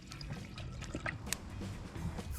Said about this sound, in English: Pour in some water